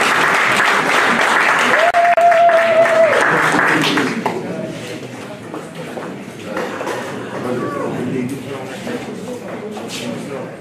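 Audience applause at an MLC party conclave in Brussels, a loud steady wash of clapping for about four seconds that then thins out into scattered claps beneath continuing voices.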